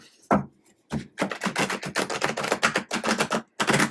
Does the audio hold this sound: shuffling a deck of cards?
yes